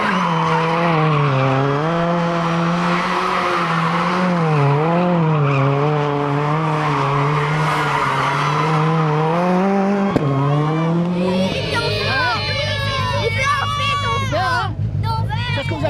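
A car drifting with tires skidding: a loud, close engine drone rising and falling in pitch, then a burst of squealing tire screeches toward the end, with voices heard over it.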